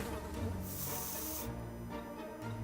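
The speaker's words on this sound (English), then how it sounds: "I've only got spray, so spray them in the face." Bug killing spray in the video game 60 Seconds gives a sustained aerosol hiss that swells into a bright, loud burst partway through over a dense game background, with no talk.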